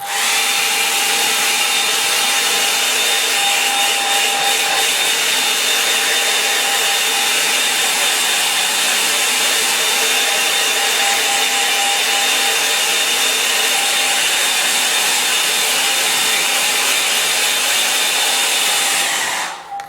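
A hair dryer blows steadily and loudly on a painting for the full twenty seconds, a constant whirring roar with a faint high whine and no voices, cutting off at the very end.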